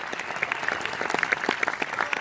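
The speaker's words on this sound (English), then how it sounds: "A round of applause for Eric." An audience at a Razer Phone launch presentation breaks into steady, close applause, a brief burst of many overlapping claps that stays even throughout.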